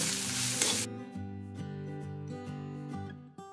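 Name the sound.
onion, turmeric and coriander mixture sautéing in pan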